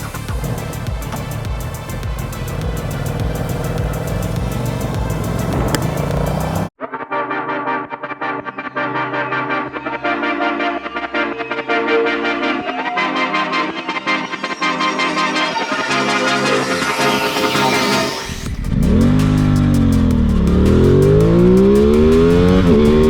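An Aprilia Tuono 660 Factory motorcycle engine runs loud and steady throughout, with a rising, revving pitch and a sudden shift in tone partway through, suggesting a change from one recording position to another.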